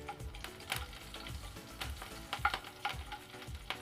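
Onion tempering in a spoonful of ghee in a frying pan gives a soft, steady sizzle with light crackles and occasional stirring scrapes, close by and fairly quiet, with no talking.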